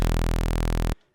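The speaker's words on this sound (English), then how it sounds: "move it up to a saw wave." A loud, buzzy sustained sawtooth wave synth tone, bright and harmonically rich, holds steadily then cuts off abruptly.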